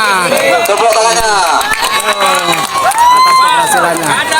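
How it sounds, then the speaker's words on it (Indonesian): An audience cheers at a street performance of extreme stunts, with children and adults shouting loudly and continuously, their voices swooping up and down in excitement, close to the listener. "Tepuk tangan sekali lagi untuk Bang Merahnya."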